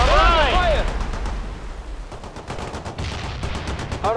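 Gunfire crackles in a battlefield of the World in Conflict strategy game, a dense rapid burst layered over low rumble, with shouted voices and radio chatter at the start and end.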